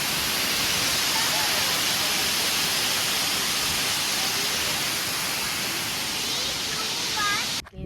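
A forest waterfall gives a continuous broad roar of rushing water that stays close and steady throughout, with a few faint bird calls over it.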